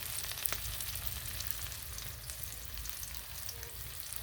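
Spice paste of chopped chilli, chilli powder and turmeric fries in oil in a pan, giving a continuous close, dense sizzle with a faint occasional stir.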